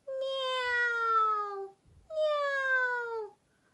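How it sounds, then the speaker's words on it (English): Two long, clear meows, each sliding downward in pitch, separated by a short pause, close and fairly loud. ""Meow," went Baby Bear."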